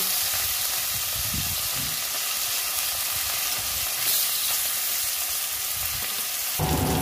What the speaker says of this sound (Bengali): দেখি আলু ভেজে নেব।